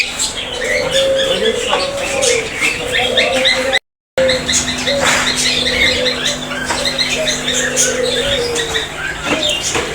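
Birds at a pet bird and fish shop in Pabna chirp and coo in a busy mix, with occasional wing flaps and a steady hum; one brief dropout breaks the sound midway.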